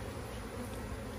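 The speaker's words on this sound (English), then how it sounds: "I should have vacuumed all those bees up first." Bees from a large wild hive being cut out of a tree buzz in a dense, steady drone that fills the moment, close and continuous with no talking.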